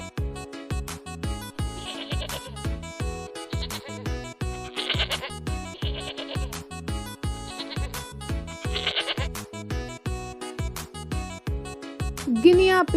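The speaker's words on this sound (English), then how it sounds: "goat," A goat bleats in several wavering, drawn-out cries spaced across the span, set against a steady plucked musical accompaniment that plays throughout.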